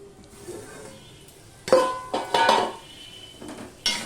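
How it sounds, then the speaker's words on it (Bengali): Potatoes being stirred and fried in a pan that was covered, a faint sizzle under clanking spatula scrapes and metal-on-pot knocks arriving in uneven bursts, close by, with no talk. "এবার নেড়ে চেড়ে আমি এটা কষিয়ে নেবো একটুখানি"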